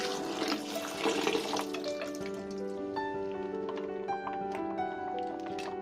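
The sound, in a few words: rinsing soaked soup ingredients in water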